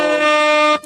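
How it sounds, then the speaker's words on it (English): A single loud, blaring air horn blast sounds on its own for under a second before cutting off abruptly. "air horns for Doc Parlay here"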